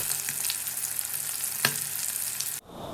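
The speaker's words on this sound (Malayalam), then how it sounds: "വെളിച്ചെണ്ണയിലാണ് നമ്മൾ ചിക്കൻ വറുക്കുന്നത്" Chicken sizzles steadily in hot coconut oil, a dense close hiss broken by one sharp clatter midway, then the frying cuts off abruptly to a quieter, softer bubbling.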